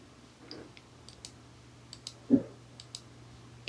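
A computer mouse double-clicking during on-screen text editing, heard as faint light clicks scattered through a quiet background, with one slightly stronger click near the middle.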